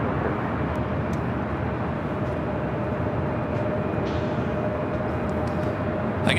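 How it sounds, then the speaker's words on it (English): A one-year-old Delta Airlines A321neo arriving at LAX from Orlando gives off a steady, broad jet roar that holds at an even level throughout, with no voices. "that was Delta Airlines coming in from Orlando, Florida, flight 482 and a 1-year-old A321neo"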